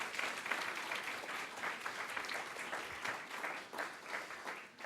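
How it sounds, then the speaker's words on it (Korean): A church congregation at a Thanksgiving Sunday service claps in thanks, with warm, steady applause from many hands spreading through the sanctuary and fading slightly near the end. "이 일을 행하신 우리 하나님께 감사의 박수를 드리겠습니다."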